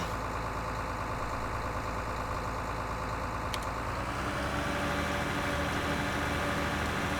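Tractor engine in Farming Simulator 2013 running steadily, then revving up around midway and holding a higher, fuller drone as the PTO engages; loud and continuous with no talk.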